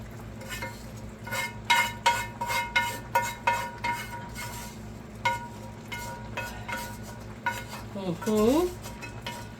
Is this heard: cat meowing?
no